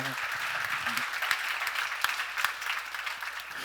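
A church congregation claps together during a sermon. The applause is steady and dense, with a few sharper individual claps standing out, and a voice is briefly heard at the start.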